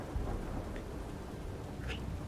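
Heavy rain falls outside with low rumbling thunder, a dense, continuous wash of noise that stays steady throughout, with a couple of faint high chirps over it.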